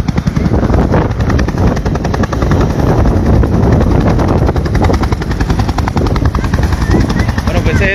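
A helicopter thunders close by with a loud, rapid rotor chop that stays constant and dominant, while a voice is faintly present beneath it.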